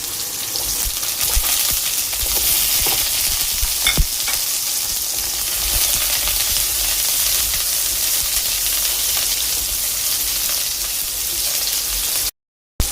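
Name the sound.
shallots frying in pan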